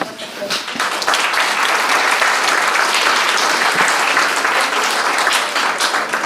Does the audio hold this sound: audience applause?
yes